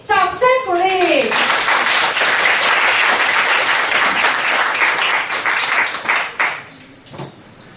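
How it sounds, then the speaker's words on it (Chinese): An audience at an Amis tribal music concert breaks into loud, sustained applause that fades out near the end, with a host's voice audible at the start. "掌声鼓励。"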